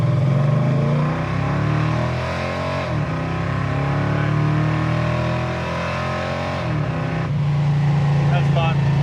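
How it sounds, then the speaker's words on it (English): A 1967 Chevy II Nova with a 327 small-block V8 revs loudly and close by, holding a steady, crisp note that dips and climbs again twice. "But it's a nice, crisp, high revving, small block."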